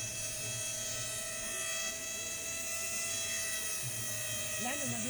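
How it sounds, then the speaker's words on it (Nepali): A small homemade quadcopter drone hums steadily overhead as it descends on its own to land on return-to-home, a constant high whine with someone talking over it. "ड्रोन माथि छ अब बिना ट्रान्समिटर युज गरेर तल आइरहेछ"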